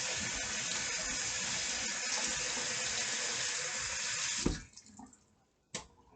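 Water runs steadily from a kitchen tap over a peeled vegetable being washed, then shuts off, followed by a couple of sharp knocks in the quiet.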